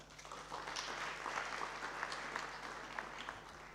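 Audience applause at an international conference on Russia-Africa relations, held in a lecture hall: steady, moderately distant clapping from a crowd, sustained evenly for a few seconds over a faint low hum.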